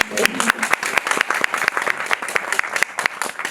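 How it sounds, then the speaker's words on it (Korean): Audience applause in a cinema during a Korean film screening Q&A with the director and actors, dense clapping with sharp individual claps throughout, close and loud, with a faint voice at the start. "박수 한번 주세요."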